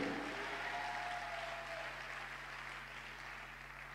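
Sustained audience applause fills a church conference hall in Abidjan, a steady, moderately faint clatter of many hands slowly tapering off over a few seconds.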